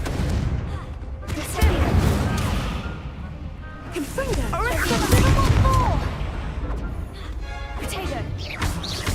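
A Confringo blasting spell in the Hogwarts Legacy video game goes off in loud bursts and crashing impacts, mixed with game effects and a voice speaking over the action.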